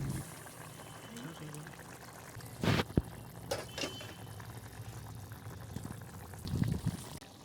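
Shol fish curry with drumstick vegetables boiling in a pot, a soft steady bubbling and simmer under a faint background, with a couple of brief louder splashes or stirs.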